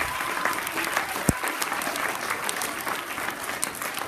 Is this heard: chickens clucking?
no